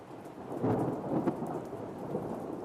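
A thunderstorm with rolling thunder and steady pouring rain, low rumbles swelling and fading over the constant hiss of rainfall, fairly quiet and distant.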